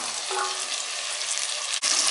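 Peas, carrot, beans and tomato fry in a pan for veg pulao, giving a loud, even hiss of sizzling oil that runs unbroken, with a brief dip near the end.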